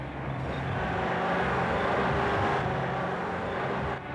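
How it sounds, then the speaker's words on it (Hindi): A car approaches, its engine and tyre noise a broad, steady rumble that stays loud and close for several seconds before easing slightly at the end. "किसी गाड़ी की आवाज आ रही है"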